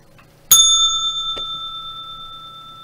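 A single bright bell rings once with a sharp strike and a long, clean ringing decay that fades over a couple of seconds, followed by a small faint tap.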